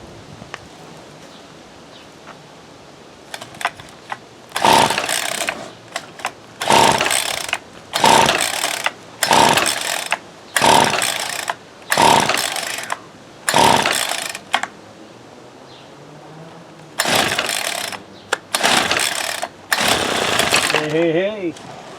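A second-hand Ryobi SS30 string trimmer with a suspected carburetor problem sputters to life in a series of short, loud bursts, each revving briefly before dying, with a few longer attempts near the end.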